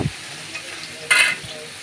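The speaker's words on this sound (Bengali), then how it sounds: "টমেটো দিয়ে সুন্দর করে একটু ভেজে নিতে হবে।" Quartered tomatoes are stirred in a hot frying pan, giving a soft sizzle with a brief scraping burst of the spoon partway through, close and fairly quiet with no talk.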